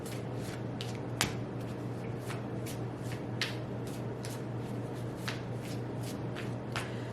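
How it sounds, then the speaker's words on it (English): Tarot cards are shuffled by hand in a quiet room, a steady run of soft papery riffles and snaps close to the mic, carrying on without pause and with no talking. "I'm getting better at shuffling this way"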